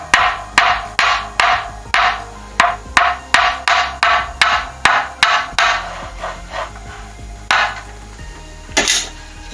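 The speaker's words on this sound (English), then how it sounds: "Some parts might be quite tight and require tapping in with a hammer." A hammer tapping tight parts into place on a custom handmade guitar with 925 silver fittings: a rapid run of sharp, bright metallic taps, close and loud, slowing toward the end with a few last strikes.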